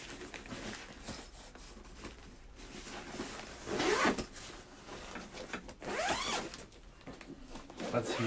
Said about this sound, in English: What is the zip here?